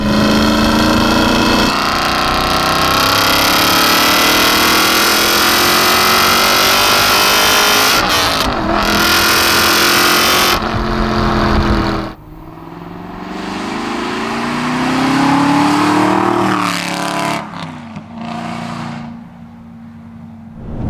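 A loud, close Aston Martin V8 Vantage with a swapped 4.7-litre V8 revs hard, sports exhaust valves open, roaring with a raspy note, rising and falling through several pulls and brief pauses before surging again.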